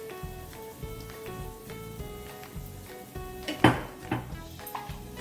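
Indian spices stirred and roasted in a pan for samosa filling, with clinks of a utensil against the pan, a sharper clatter near the middle, and a soft kitchen tone underneath.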